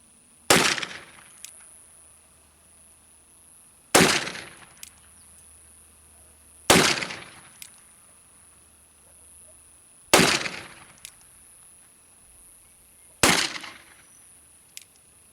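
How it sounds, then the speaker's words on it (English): Five loud black powder shots from an Uberti 1861 Navy revolver fired outdoors, spaced about three seconds apart, each a sharp crack with a short echoing tail, one of them noticeably weaker from a partial charge. "Obviously, one of those shots I didn't have a full charge."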